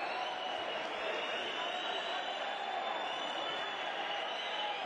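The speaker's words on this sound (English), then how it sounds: "You can hear what the crowd think about it." Arena crowd at a Basketball Champions League game between Movistar Estudiantes and Rosa Radom reacting to an offensive foul, a steady loud wash of booing and murmuring filling the hall without pause.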